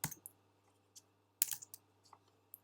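Several quiet, close keystrokes on a computer keyboard as a search is typed, sparse irregular taps with a sharper click near the middle, in an otherwise silent room.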